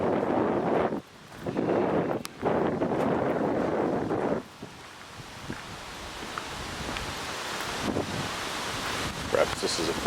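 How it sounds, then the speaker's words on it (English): Blustery, cold wind buffets the microphone in strong gusts in San Martín de los Andes, Argentina, with broadband rumble that drops away partway through and then settles into a steadier, quieter outdoor breeze. "cold, windy day."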